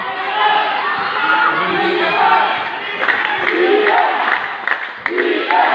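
Loud shouting and roaring from spectators packed into a local summer league basketball semifinal in Bocaue, Bambang, a dense continuous wall of voices with rising bursts of yelling near the end.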